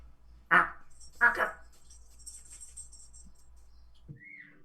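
A voice imitates a duck's hushed but intense honking, giving two short, breathy, nasal honks close up, followed by faint quieter sounds and brief talk at the end.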